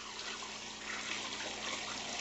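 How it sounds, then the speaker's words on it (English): Water pours steadily into a cooking pot, a continuous broadband rush that holds at an even, moderately loud level throughout with no talking. "I need to add some water. I got a bunch of water."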